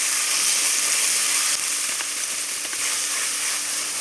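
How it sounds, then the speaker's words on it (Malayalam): Tomatoes and a little salt sauté in a pan for a soya dish, giving a steady, bright sizzle with a few soft stirring scrapes, close and continuous with no talking. "ഇനി നമ്മൾക്ക് ഇതിലേക്ക് തക്കാളി ഇട്ട് കൊടുക്കാം. ശകലം ഉപ്പ് കൂടെ ഇട്ടിട്ട് നമുക്ക് വഴറ്റിയെടുക്കാം."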